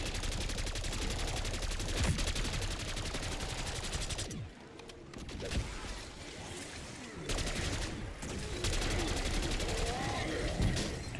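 Hand cannon fire in Black Ops 6 Zombies on Liberty Falls, dense bursts of gunshots and game effects layered throughout, with a short quieter gap midway, loud and busy.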